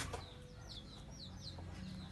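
Hens guarding a single newly hatched chick give soft, low clucks while the chick's thin, high peeps come in short rising bursts, all quiet and steady against faint farmyard background.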